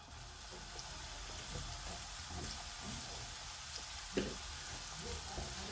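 Onions for a spinach quiche fry lightly in a pan, a steady, soft sizzling hiss that runs unbroken throughout, fairly quiet with a couple of faint clicks.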